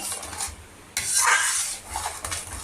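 Sweet and spicy tomato sauce stirred continuously in a pan on a gas stove, a steady scraping of spoon against metal with a soft simmer underneath, close and moderately loud, with no talking.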